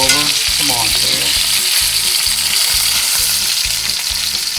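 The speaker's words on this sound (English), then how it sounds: "Our fish has been cooking now. I've been basting it in this oil and butter." Rainbow trout fries in a pan of oil and butter, a loud, dense, continuous sizzle right up close, with steady crackle and no voices.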